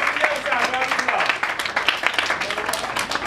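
An audience applauding, a dense, steady wash of clapping from many hands that stays loud throughout and mixes with some crowd voices.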